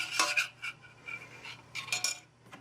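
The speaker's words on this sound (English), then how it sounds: "As soon as I add the egg, I start beating right away so that the egg won't get too hot." An egg is beaten into warm marbled mint brownie batter in a bowl, making quick, light clinking and scraping strokes of a utensil against the bowl in an uneven rhythm. The sound is close but fairly soft, with no voices.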